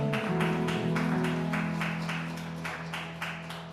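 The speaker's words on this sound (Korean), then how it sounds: "우리를 인도하시는 주님께 영광의 박수 올리겠습니다" Rhythmic congregational clapping in a Korean church Sunday service, steady evenly spaced claps over sustained organ or keyboard chords, fading slightly toward the end.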